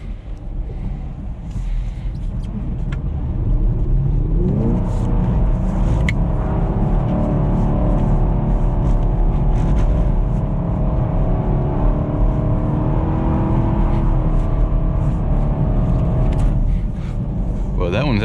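A Chevrolet Camaro SS with a six-speed manual gearbox revs hard during a drift session, its engine holding a loud, sustained high-rev roar with rising and falling pitch, close up and continuous.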